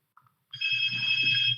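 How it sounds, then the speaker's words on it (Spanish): A telephone rings during a university structural engineering lecture, a loud, steady electronic ring that starts abruptly after a short faint knock and continues unbroken, with no talking over it. "Denme un momento. Teléfono."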